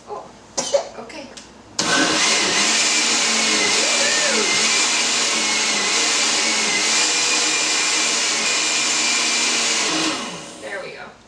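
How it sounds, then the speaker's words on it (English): A blender purees hot butternut squash soup, starting abruptly after a couple of seconds of small clatter and running as a loud, steady whirring roar for about eight seconds before cutting off. "when you're blending a hot liquid, you want to take the cap off of your blender and cover it with a folded towel"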